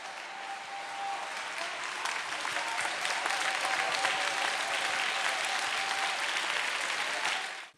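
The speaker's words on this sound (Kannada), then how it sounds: "ಚಪ್ಪಾಳೆಯ ಕಾಣಿಕೆ ಕೊಡ್ರಿ." A church congregation gives sustained applause at a sermon, a dense, even wash of many hands clapping that holds steady for several seconds before cutting off.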